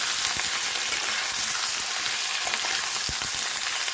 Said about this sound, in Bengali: হলুদ দিয়ে ভালো করে সবজিগুলি ভেজে নেব।